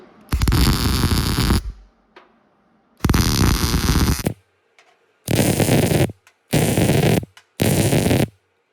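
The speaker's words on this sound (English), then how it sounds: "I'm going to solid weld this thing a little at a time." Welding on a 1956 Mack truck: loud, steady crackling buzz in five separate bursts of one to two seconds each, separated by short quiet pauses, close up with no talking.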